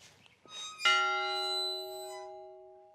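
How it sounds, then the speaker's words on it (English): A plantation bell rings out, struck after a couple of lighter knocks, then sustains a clear metallic tone with long ringing overtones that slowly decay over a few seconds, alone and close. "They wake you up by the bell."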